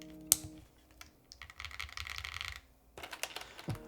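Close keyboard typing with PBT/ABS blend keycaps on a Mode Loop build: quick bursts of clacky keystrokes separated by short pauses, with a few sharper, louder strikes and no talking.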